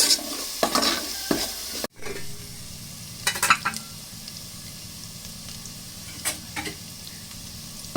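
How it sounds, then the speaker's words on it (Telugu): Village-style fish curry with turmeric fried and stirred in a pan, a soft sizzle under intermittent scraping and clinking strokes, with a brief cut in the sound partway through; fairly quiet, with no speech. "పచ్చివాసన పోయేటట్టు బాగా ఫ్రై చేయండి కొంచెం పసుపు పసుపు వేసి బాగా తిప్పాలి"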